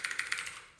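Quick, light keystrokes on a computer keyboard tap out an uneven run of clicks close by, ending with one sharper final press, with no speech.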